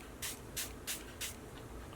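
Four short, evenly spaced hissing bursts of spray paint aimed at a craft piece, each a brief sharp puff with quiet gaps between, then a fainter fifth puff.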